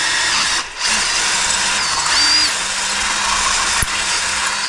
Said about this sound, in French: faut que je perce